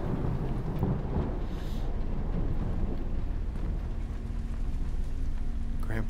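Thunderstorm in the game Madison: steady rain pattering on surfaces under low, rolling thunder rumbles, a continuous wash of sound at moderate loudness with a brief sharper crackle near the end.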